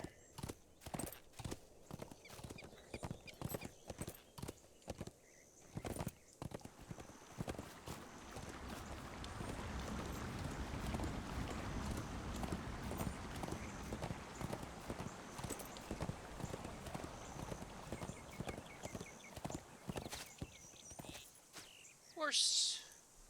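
Horse hooves clip-clop steadily as a mount is ridden in a fantasy video game set in Middle-earth, with rhythmic hoofbeats, a brief whinny, and a person talking over much of it.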